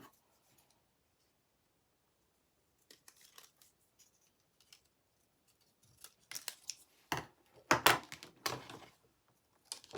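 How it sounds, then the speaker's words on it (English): Sharp scissors snip through the paper handle of a stamped, die-cut Easter basket in a cluster of close, crisp cuts, a few faint clicks first and the loudest snips near the end. "I'll take my scissors and just cut this piece of the handle off"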